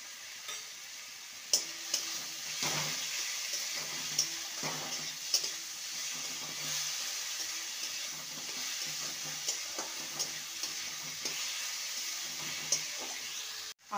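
Ginger, garlic and tomato with salt being sautéed in a pan for a spicy okra dish, a soft continuous sizzle broken by scattered light clinks and scrapes of stirring, fairly quiet and steady throughout.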